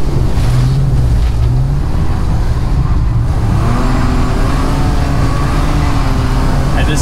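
BMW engine with 280,000 km on it revving hard toward redline, a loud rising and falling drone mixed with heavy wind and road rush, continuous and close.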